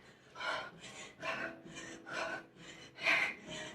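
Heavy panting after an intense Tabata workout, with about eight loud, rhythmic breaths in and out, close to the mic and spread evenly across the clip.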